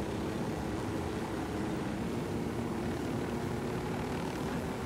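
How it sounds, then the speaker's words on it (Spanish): A helicopter flies in the video game Ghost Recon Wildlands, its rotor and engine drone holding a steady, continuous roar throughout with no talk over it. "manejar el helicóptero es un poco raro"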